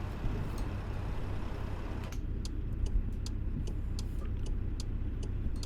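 A Cat C15 800-horsepower engine with Eaton 18-speed and retarder in a 100th Anniversary Kenworth W900 in American Truck Simulator, using the Z-Mod sound set, drones low and steady while a regular ticking, like a turn signal, clicks in over the second half.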